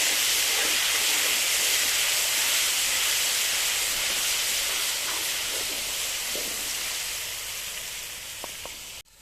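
Ginger garlic paste fries in a pan for chana pulao, giving a loud, even sizzling hiss that fades slightly toward the end, with a few faint clicks.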